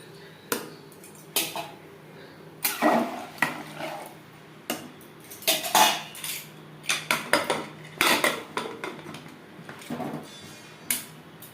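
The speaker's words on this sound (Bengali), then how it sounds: "গ্রেভির সাথে মাংস বেশ ভালো করে মিক্সড করে দেব।" Mutton being stirred into gravy in a cooking pot for an aloo mutton curry, with a spoon clanking and scraping against the metal pot in irregular bursts, close and fairly loud.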